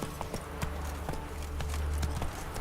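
Roach, Geralt's horse in The Witcher 3, galloping with a rapid, steady clip-clop of hooves, close and clear over a low rumble, with no voices.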